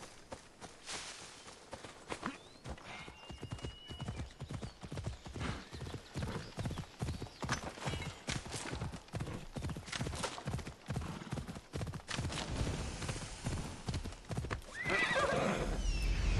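A horse in the video game Assassin's Creed Odyssey gallops with a rapid, steady clip-clop of hooves and lets out a whinny near the end, loud and close.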